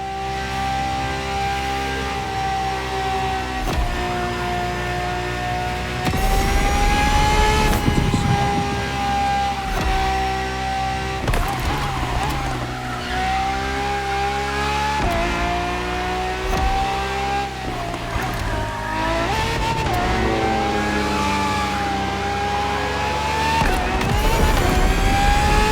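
A Ferrari FXXK engine in The Crew Motorfest racing game holds a loud, steady high-pitched roar, rising and dipping through gear changes and revs, continuous and close for the whole stretch.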